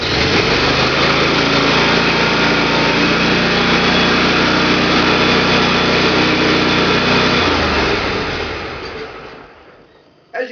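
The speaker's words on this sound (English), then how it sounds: "we're going to turn the engine on and see if the throttle cable works" A small engine of a zero-turn riding mower with a faulty throttle cable runs at a steady drone, shifts pitch partway through, then winds down and stops with a final clunk.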